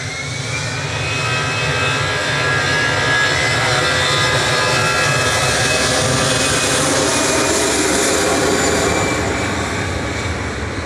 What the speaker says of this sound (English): See how quickly it accelerated? They were definitely enjoying that spool up.